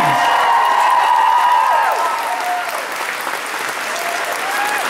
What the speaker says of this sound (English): can we have a round of applause for those people, please?